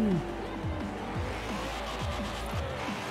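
A BMW E46 car engine in Forza Horizon 4 drones and revs, its pitch repeatedly climbing and dropping like quick gear shifts, with a brief squeal at the start.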